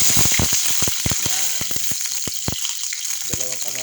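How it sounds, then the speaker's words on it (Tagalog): Tomatoes frying in a hot pan, a steady bright sizzle with a run of popping crackles and spatters, close and loud throughout. "So ngayon, pipilitrin natin yung ating kamatis."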